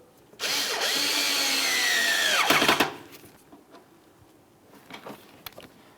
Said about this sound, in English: start putting in your Phillips head mounting screw